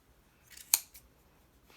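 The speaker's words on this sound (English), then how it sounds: "cut all the loops here, okay, for all the individual pom-poms" Scissors snip through yarn loops of a pom-pom, a couple of quiet close-up cuts with one sharp central snip in an otherwise hushed room.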